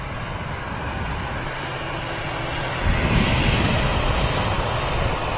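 A 21-year-old Finnair jet taxiing out at Manchester Airport, a steady engine roar heard from a distance that swells slightly louder partway through, with no talk.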